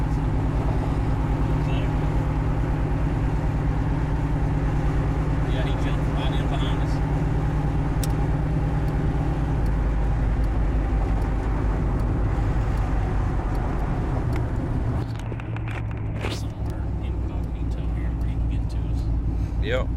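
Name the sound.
hot rod truck driving on road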